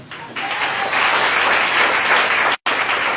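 Church congregation applauding and cheering in praise of Jesus, a dense wash of clapping that swells after a brief quiet start, stays loud and steady, and cuts out for an instant before resuming.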